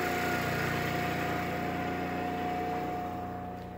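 A Briggs and Stratton Q6500 generator runs at full RPM, giving a steady, close engine drone with a constant tonal hum that fades slightly toward the end, with no talk.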